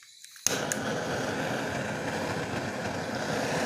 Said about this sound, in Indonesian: saya gunakan hot gun atau flame gun seperti ini. Saya nyalakan dulu